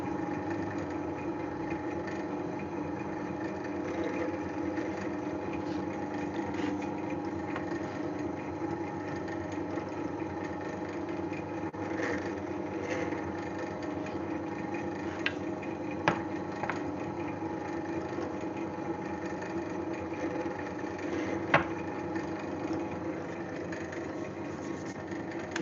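A power drill bores small holes into a wooden cutting board, a long steady whirring hum with faint sharp clicks and knocks scattered throughout, no talking.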